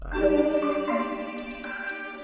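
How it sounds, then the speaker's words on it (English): Four short, crisp closed hi-hat ticks tap over a sustained harmonic synth chord in a beat, evenly spaced toward the end. "these are the closed hi-hats that we are working on first."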